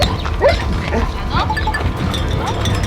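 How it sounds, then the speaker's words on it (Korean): Several big dogs of a nine-dog household below Seoraksan bark and yip excitedly at arriving visitors, a close, busy run of sharp calls mixed with people talking. "아이들이 짖는 소리 자체가 조금 위협적이긴 하니까"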